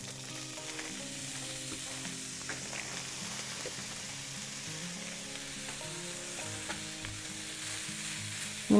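Frozen packaged fried rice with pieces of meat and vegetables tipped into hot oil, giving a dense, steady sizzle and crackle that runs on evenly, with a few light scrapes, close and moderate in level.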